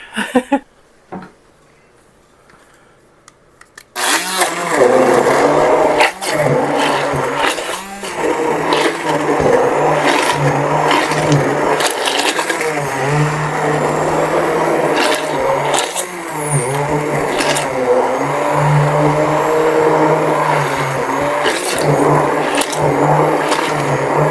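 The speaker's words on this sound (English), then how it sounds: "Let's see if my immersion blender will work." An immersion blender whirs through partly thawed strawberries for sorbet, starting after a few quiet seconds and then running loud and steady with a grinding hum, its pitch shifting briefly as the blade works through the fruit.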